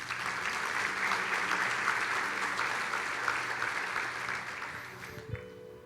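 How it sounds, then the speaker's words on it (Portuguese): A church congregation applauds during a service: a continuous, fairly loud roomful of clapping that holds steady and then cuts off abruptly near the end, followed by a brief thump. "Dê um aplauso ao Senhor."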